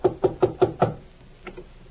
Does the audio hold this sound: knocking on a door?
yes